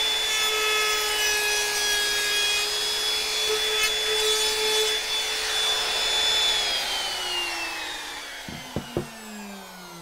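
A Bosch PR20EVS Colt 1-horsepower variable-speed palm router whines steadily at high pitch while cutting a 1/8 round-over edge in wood, the tone shifting slightly, then winding down near the end with a couple of knocks.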